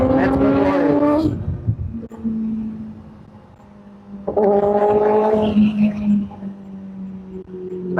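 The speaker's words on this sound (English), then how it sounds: "Oh my god, AMG SLA 55" A Mercedes-AMG SL 55 accelerates past on a Gurgaon road, its engine rising loudly, fading, then surging again as it pulls away, heard over steady motorcycle and wind noise.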